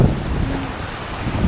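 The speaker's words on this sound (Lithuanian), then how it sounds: "Jūra taip ir nerimsta." Rough sea waves at Krynica Morska beach surge beneath strong wind buffeting the microphone, giving a loud, rumbling, gusty roar with no voices.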